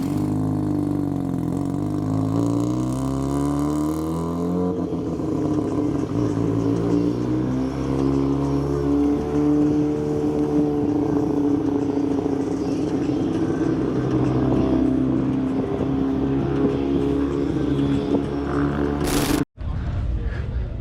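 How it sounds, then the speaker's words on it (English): A Nissan Silvia fitted with a rotary engine revs hard toward 10,000 RPM, a loud, close, sustained buzzing wail whose pitch climbs and holds before a sudden cutoff near the end. "It's a Sylvia with a rotary in it."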